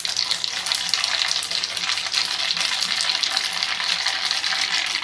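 Mustard seeds sizzle and crackle steadily in well-heated oil, a dense, continuous frying hiss with fine popping throughout, close and fairly loud, no voices.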